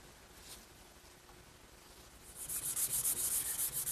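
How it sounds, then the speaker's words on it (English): Sandpaper of 320 grit wet-dry rubs a sealed white oak vanity case, faint at first and then a quick run of rhythmic back-and-forth strokes closing the clip. "I've sanded the entire case with some 320 grit wet dry sandpaper"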